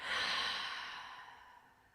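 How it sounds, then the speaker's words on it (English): A single deep, slow exhale during a quiet yoga session, a soft breathy rush that fades gradually over two seconds. "just breathe in, breathe out"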